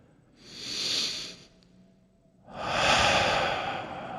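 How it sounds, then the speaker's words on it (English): A single slow, deep breath: a long airy inhale, a brief pause, then a longer, fuller exhale, close to the microphone in a quiet room. "Now close your eyes and take a deep breath."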